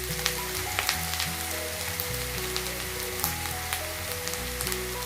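Ginger garlic paste sizzles and crackles steadily in hot oil with browning onions in a pan for a kebab masala gravy, a dense, continuous fry close to the mic with a faint low hum underneath and no voices.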